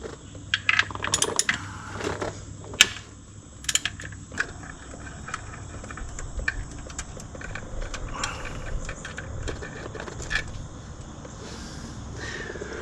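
Metal clicks and clatters from a 10 mm ratchet and loose bolts as transmission filter bolts come off a 2019 Mitsubishi Outlander, sharp irregular ticks and clinks up close, then fainter rattling.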